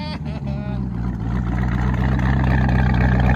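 A car engine fitted with a Corsa exhaust revs loudly and steadily, a deep continuous roar that builds and holds close up, with a voice briefly heard at the start.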